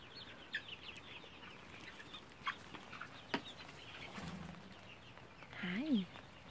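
Chickens clucking faintly in a quiet farmyard, with a few scattered calls and a louder, wavering cluck near the end.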